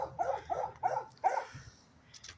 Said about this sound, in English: let's hope the dog is a nice dog that just barks a lot